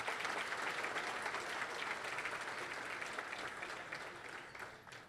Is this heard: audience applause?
yes